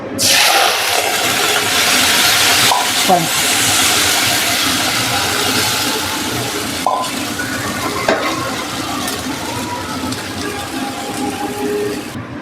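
Crushed green chilli, ginger and garlic, added with a little water, hit hot oil in a pan for a frying tempering, giving a loud, sustained broadband sizzle that eases slightly over time, with a few clatters along the way.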